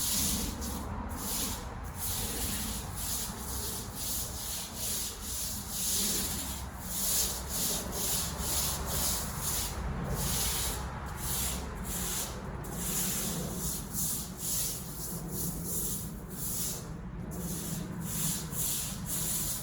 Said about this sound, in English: I'm using the broom only to move it around to make sure I'm covered everywhere.